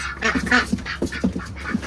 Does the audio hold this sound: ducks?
yes